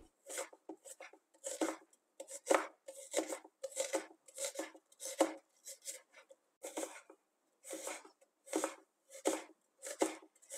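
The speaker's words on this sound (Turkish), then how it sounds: "Şimdi bir adet kuru soğanımızı piyazlık olarak doğruyoruz." A knife chops an onion on a board in short bursts of quick taps separated by brief pauses, close and quiet, with no talking.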